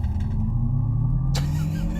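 Artificial driving sound from an electric car, a low steady synthetic hum with a slowly rising pitch under a continuous rumble, close and moderately loud, with a brief broadband burst near the end.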